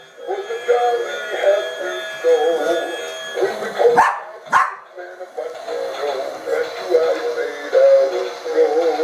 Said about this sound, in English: a little black dog that's fascinated by a little white dog